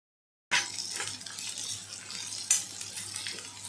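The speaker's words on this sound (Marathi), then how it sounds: "कांदा आपला परतून होतोय तर आपण ह्याच्यामध्ये आता शिमला मिरची टाकूया" Chopped capsicum is stirred into onions sautéing in a pan, giving a steady sizzle with a sharp scrape and clatter of the spoon at the start and another midway through, fairly close and with no voices.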